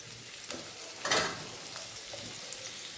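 Shrimp and green chilies fry in a hot pan with a steady, close sizzle that swells briefly into a louder hiss partway through, with no talking.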